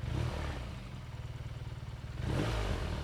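A BMW R NineT Urban G/S boxer engine revs close by in a loud, pulsing drone, dips briefly and then surges again with a throttle blip, with no voices.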